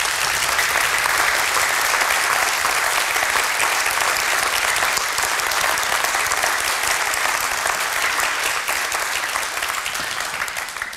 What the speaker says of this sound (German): Von daher begrüßt auch mit dem Andreas-Applaus all die Studenten